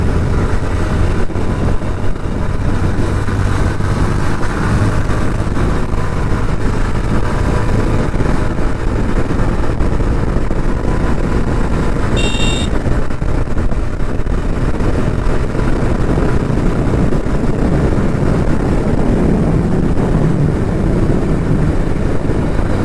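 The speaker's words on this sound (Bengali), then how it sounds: "এখানে আমার বাইকের টপ স্পিডটা আমি টেস্ট করতে চাচ্ছি।" A motorcycle is ridden at top speed at night on city roads in Rajshahi. Wind buffeting mixes with the steady roar of the engine, loud and unbroken, with a short tonal beep midway.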